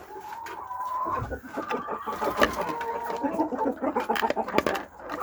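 Farmyard chickens cluck and squawk close by in a busy, uneven chorus, with a few sharper calls standing out and no talk over them.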